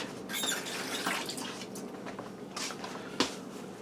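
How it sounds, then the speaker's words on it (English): A hand rinsed under a running kitchen tap while making meatloaf, with an uneven splashing water stream, a few brief clinks, and a sharper knock near the end. "Let me give my hand a rinse quick."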